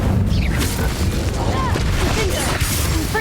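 A fire spell cast in the Hogwarts Legacy video game, a loud booming burst with crackling over a dense, continuous game soundscape, with a voice speaking over it.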